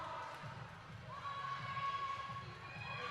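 A roller derby crowd at a Top Herloins versus Capital City Cannon Dolls bout lets out a modest, distant cheer with scattered shouts in an echoing arena.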